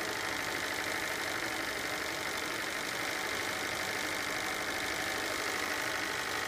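A Max 11 steam plant engine runs slowly at around 60 psi, producing a faint, steady hiss and soft continuous chugging with no voices.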